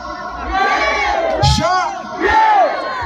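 A large crowd at a China Hills event roars a call-and-response chant of "Sha" back to a performer, loud, dense massed shouting in two surges with a brief dip between them.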